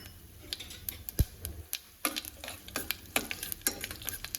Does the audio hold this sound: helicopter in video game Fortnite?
no